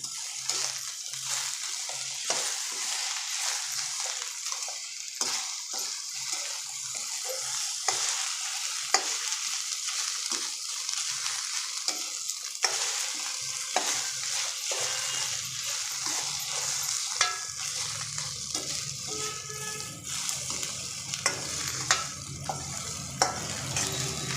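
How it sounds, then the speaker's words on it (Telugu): Sliced okra frying in a pan and stirred constantly, an ongoing close sizzle broken by repeated spatula scrapes and knocks at an uneven rhythm, without speech. "ఇలా కలుపుకుంటూనే ఉండాలి, అస్సలు వదలకూడదు"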